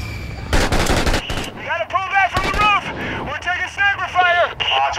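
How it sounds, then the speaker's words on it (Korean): Gunfire in the combat shooter Six Days in Fallujah, set during urban street fighting: repeated bursts of automatic fire and sharp single shots, loud and close, with someone talking over some of the shooting. "오, 어디서 쏜다."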